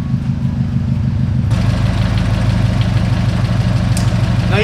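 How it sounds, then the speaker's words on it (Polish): A freshly rebuilt Subaru Impreza WRX STI engine idles steadily with a low, even rumble and rhythmic mechanical ticking, close and loud, with no talking. "To jest silnik, który jest świeżo złożony"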